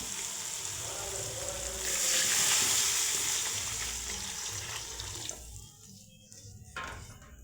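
Curry leaves and turmeric powder sizzle in hot oil for a Vidarbha-style ambil, a steady frying hiss that swells midway and then thins out toward the end.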